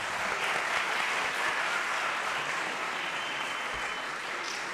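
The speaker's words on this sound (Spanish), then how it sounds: "Vamos a hacer un aplauso." An audience applauds steadily at a climate-action education event, a dense even wash of clapping that holds for several seconds with no speech over it.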